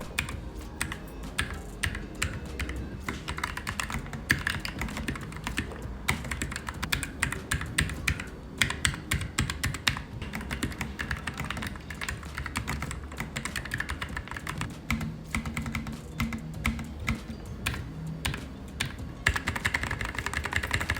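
A Keychron K3 Max low-profile wireless mechanical keyboard is typed on steadily, producing dense, rapid, close-up clacks and taps with brief pauses, alone and with no talking.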